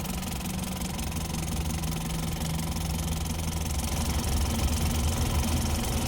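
A car engine with an oil leak idles steadily with a low, even rumble and faint mechanical rattle, continuous for the whole stretch with no voices.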